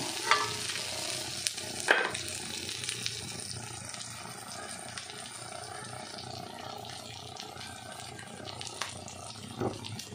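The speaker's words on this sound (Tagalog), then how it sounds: "Gisahin muna natin sa yung karne. Itosta natin ng konti para masarap." Meat sautés in a pan for a moringa dish, sizzling steadily close by with occasional louder crackles and scrapes of stirring.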